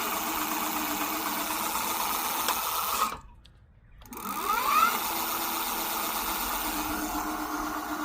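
An APEFOX RH20 electric bike's hub motor spins its lifted wheel at speed, giving a steady mechanical whine with a short drop in the middle before the pitch sweeps back up.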